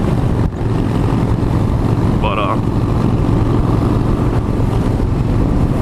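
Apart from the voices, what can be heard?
loud motorcycle exhaust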